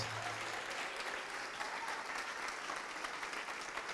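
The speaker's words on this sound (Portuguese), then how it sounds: "Vamos aplaudir porque está vindo mais." Sustained applause from a sizable crowd, a thick continuous wash of clapping without pause.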